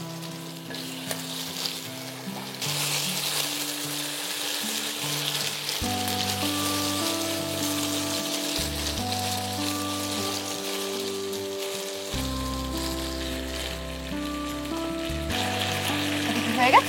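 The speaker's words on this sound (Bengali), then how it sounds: "তারপর এর মধ্যে আমি ওই পেঁয়াজটা ভাজবো।" Onion fries in the same oil used for prawns while cooking prawn biryani, a steady crackling sizzle that runs throughout with occasional stirring, a low musical hum underneath.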